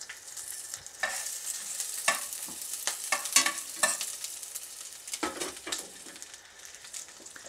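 Onions and garlic sautéing in hot cooking oil for Bicol Express, a steady sizzle broken by scraping stirs and clinks throughout, close and moderately loud with no voices.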